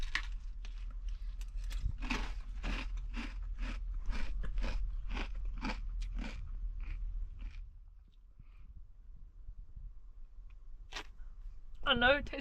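Cap'n Crunch cereal being eaten, a steady run of about a dozen close, regular crunchy bites, then quieter pauses with a few more crunches near the end.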